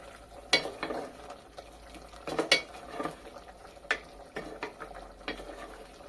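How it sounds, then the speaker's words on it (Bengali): Beef curry stirred in a pot, with scattered spoon clinks and scrapes against the metal over a low simmering sizzle, close and fairly quiet. "2 থেকে 3 মিনিট রান্না করে নেওয়ার পর এভাবে একবার নাড়াচাড়া করে দেব।"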